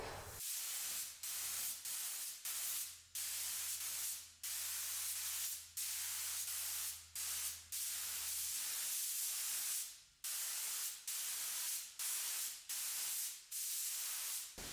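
A spray gun lays a heavy paint coat on a BMW E30 body, a loud close hiss in repeated passes of one to two seconds with brief gaps between triggers.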